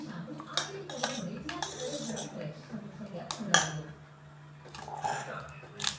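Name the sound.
mixing sandwich filling in a bowl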